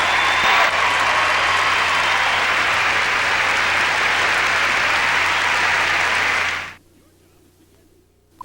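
Audience at a 1995 legends figure skating event applauding a skater's performance, sustained loud clapping from a large arena crowd that cuts off suddenly near the end.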